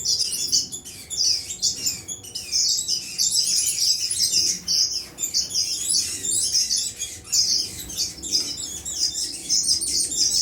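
Many small birds chirp and tweet continuously in an indoor aviary with a black cheek nest, a dense, busy chorus of overlapping calls close by with no talk.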